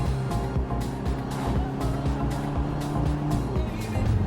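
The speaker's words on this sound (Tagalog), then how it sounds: "now I've switched the car to race mode and the exhaust should sound much more lively." Ferrari Roma Spider in race mode, its exhaust giving a loud, sustained engine rumble heard from inside the car, with rhythmic swells and short bursts as the revs rise and fall.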